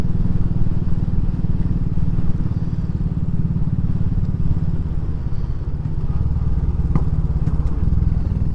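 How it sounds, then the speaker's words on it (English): A Royal Enfield Classic 500 single-cylinder engine thumps at a steady, loud idle throughout, its exhaust giving a chuffing beat with a few faint pops near the end. "I love that little pop through the exhaust as well."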